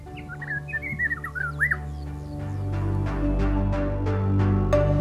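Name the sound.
songs of rock runner and Angola cave chat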